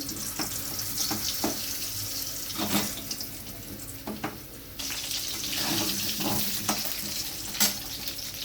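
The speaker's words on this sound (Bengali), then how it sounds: "আলুগুলো আমি হালকা ভেজে নিচ্ছি" Cut potatoes fry lightly in hot oil, a close, even hiss broken by several sharp knocks and scrapes as they are stirred in the pan, with no talking.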